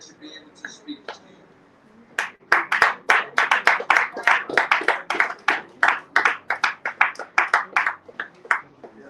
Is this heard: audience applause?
yes